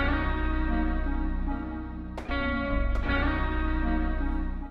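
A chopped-up Native Instruments sample melody plays from an MPC: dense, sustained tones broken by two abrupt chop cuts, loud and continuous with no voices.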